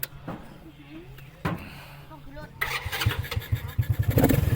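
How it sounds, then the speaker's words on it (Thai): A three-wheeled motorcycle engine starts and settles into a steady, rumbling idle that grows louder, following earlier clanks and handling noises, with someone talking over it. "ง่ายครับสตาร์ทติดง่าย"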